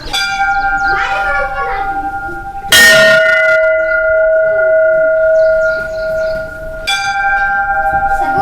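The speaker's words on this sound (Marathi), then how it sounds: "घंटा नाद." A temple bell rings at a Ganapati and Shiva temple on Mahadev hill; two separate strikes each leave a long, bright, shimmering ring that slowly fades, clear and fairly close.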